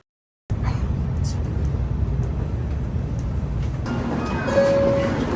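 The inside of a Shinkansen bullet train in Japan, bound for Osaka, starts after a moment of silence. A steady low rumble and rushing noise follows, swelling slightly later on, with a brief clear tone near the end.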